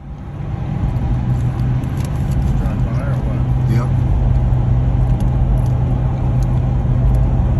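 A street racing car races at Compton, its engine a loud, continuous roar that swells slightly and holds steady throughout.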